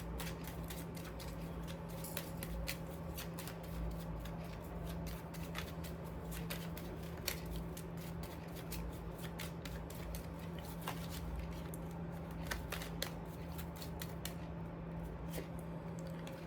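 Tarot cards being shuffled and drawn by hand, soft scattered riffles, taps and papery flicks close by over a steady low hum, with no talking.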